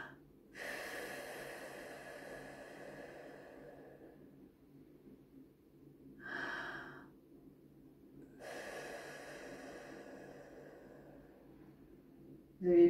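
Deep inhalations through the nose during an eye yoga exercise, two long close breaths in separated by a short sniff, quiet room otherwise silent.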